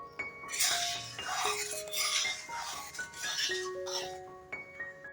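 A metal spoon scrapes and clinks continuously against a pan as milk is stirred while it boils down, with bright ringing metallic tones and uneven scraping strokes close by.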